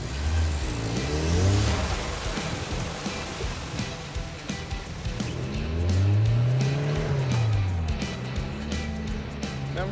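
A homemade autocross car driven on a road trip revs and accelerates in loud surging swells, its engine note rising and falling twice over the rumble of tires and road noise, with faint voices underneath.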